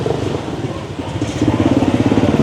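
A motorcycle engine idles nearby with a rough, pulsing putter that grows louder and more rhythmic as it revs slightly.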